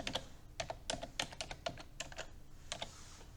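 Rapid keystrokes on a computer keyboard as numbers are entered into spreadsheet cells, a close run of irregular clicks with short pauses and no talking.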